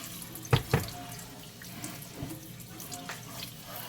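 Tap water runs steadily into a kitchen sink during a rinse, a close, even wash of splashing with two sharp knocks early on and no talking.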